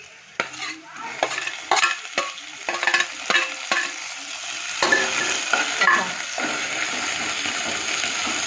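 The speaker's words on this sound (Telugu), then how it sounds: "కొంచెం అల్లం పేస్ట్ వేస్తున్నాను, అలాగే కరివేపాకు వేసి బాగా కలపాలి." Ginger paste, curry leaves and tomato pieces stirred and frying in a pan for rotte khichdi masala, with repeated scraping strokes over a steady sizzle that grows fuller in the second half; no talking.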